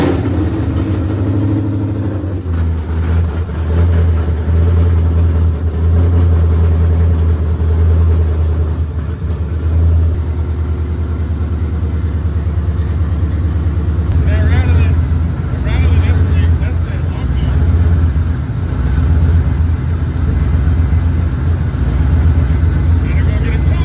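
A Ford Coyote V8 swapped into a car fires up and settles into a loud, steady idle with a deep low rumble, a few throttle blips along the way, with people talking over the running engine.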